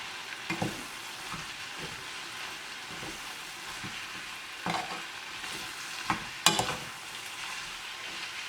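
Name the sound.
stirring green bean curry with spices in a pan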